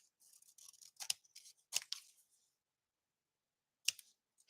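Scissors snip and trim in short, quiet bursts of crisp metallic cuts, a cluster of several snips followed by a pause and one more snip, close to the microphone.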